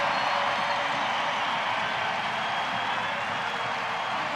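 A stadium crowd of over 15,000 at Providence Park roars steadily in celebration after the Portland Thorns beat the Boston Breakers, a dense wash of cheering and clapping that holds constant throughout.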